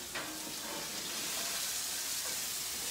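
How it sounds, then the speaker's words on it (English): Bacon sizzles steadily in a pan on a home stovetop, a constant bright frying hiss with faint crackles, fairly close and alone without talk. "Okay, so the bacon is sizzling a little bit."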